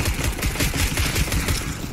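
Rapid, dense gunfire crackles in a continuous clattering burst from a Desert Eagle pistol in a video game, loud and close throughout.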